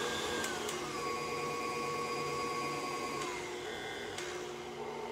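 Electric mixer whirring steadily through a sugar mixture with egg and vanilla for cookie dough, a continuous close motor drone with faint tonal whine and occasional light knocks.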